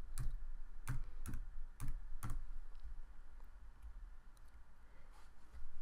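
A computer keyboard is typed on to enter a folder name: a quick run of about six sharp, close key clicks at an uneven rhythm, followed by a few fainter taps in a quiet room.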